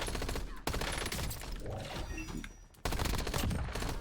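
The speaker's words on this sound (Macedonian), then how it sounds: "ме пука друг" Rapid bursts of gunfire in a shooting video game crack in clustered volleys with short gaps between them, loud and close, with some talking faintly beneath.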